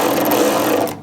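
A power driver runs steadily for about a second, a dense close mechanical buzz, while tightening window regulator bolts on a Jeep XJ, then cuts off abruptly.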